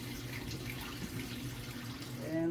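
Water runs from a tap to wash film during E-6 colour processing, a soft steady flow that grows slightly louder near the end, quiet and close.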